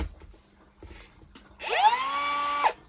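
Makita 3-inch cut-off tool spins up and runs with a steady high-pitched whine for about a second, loud and close, after quiet handling noises.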